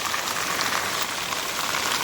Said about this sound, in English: Yeah, that's the rain.